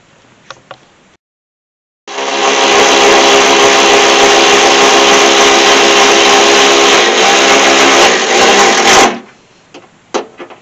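A power tool whirs loudly and steadily for about seven seconds while tightening an upgraded air intake part on a 2002 Chevy Camaro, with brief clicks and handling noises before and after.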